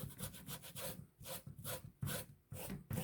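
A soft abrasive pad scrubs the mating surface of a Briggs and Stratton carburetor, quiet rhythmic back-and-forth rubbing strokes, about a dozen in quick succession, close up with no voices.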